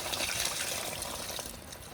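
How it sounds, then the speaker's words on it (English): Condensed water from a tumble dryer's container pours and trickles out for a couple of seconds, a close gushing splash that gradually tapers off. "all that condensed water builds up in here. Just going to tip that out"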